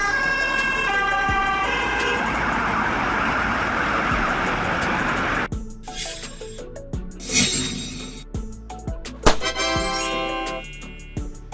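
A Swedish police car, such as a Volvo V90 or BMW 5 Series, wails with a loud siren that holds a steady tone, then breaks into rapid, choppy warbling yelps, close and alone.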